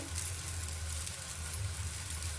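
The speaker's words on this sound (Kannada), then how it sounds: "ಕಡೆ ಒಂದು ಅರ್ಧ ಸ್ಪೂನು ತುಪ್ಪನ ಹಾಕ್ಕೊಳ್ತೀನಿ." Half a spoon of ghee sizzles steadily on a rice akki rotti made with dill leaves, cooking in a hot pan. The low, even frying hiss holds close and continuous with no talk.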